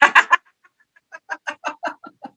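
A chicken or rooster clucks loudly nearby, first three sharp calls, then a short pause, then a run of six rhythmic clucks, with no talking.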